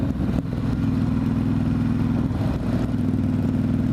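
A Harley-Davidson Fat Boy motorcycle passes on a Chicago street, its loud, steady low engine rumble continuous and close throughout, with a slight dip partway through.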